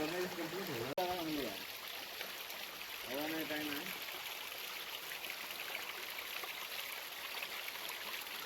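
A flowing stream runs beside a Pandava-era cave temple in the Konkan countryside, giving a steady, continuous wash of water throughout, with brief voices early on.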